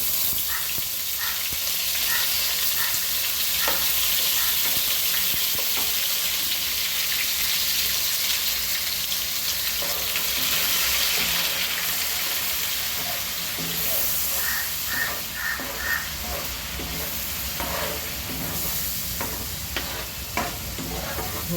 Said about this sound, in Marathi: तेल तापलं आहे आता आपण ह्याच्यामध्ये जिरं घालूया आपण हे जे वाटण केलेलं आहे ते घालूया